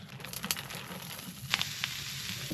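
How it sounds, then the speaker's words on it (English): Onions sautéing in a pan inside a hot tent during snowy winter camping, a soft continuous sizzle with a few crackling pops, fairly quiet and with no talking. "I'm gonna start off by sauteing some of these onions"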